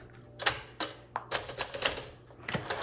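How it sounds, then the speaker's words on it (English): Sears Tower Commander typewriter made by Smith Corona, 1957-59, typed in quick uneven bursts of sharp key strikes with small pauses, close and alone in a quiet room. "I'm not typing very well."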